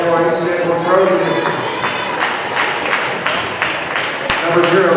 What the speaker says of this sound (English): a round of applause for East Central Trojan